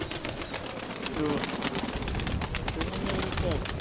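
Rock doves coo close by, soft low calls surfacing amid rustling and tapping noises, with a voice talking quietly alongside.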